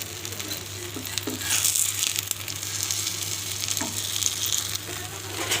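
A boiled egg frying in a pan, with steady close sizzling and crackling throughout, a few soft scrapes and clicks over a low background hum.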